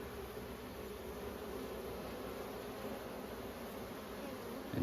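Honey bees buzzing around a nucleus hive, a steady, dense hum from many insects close by, faint and continuous with no voices.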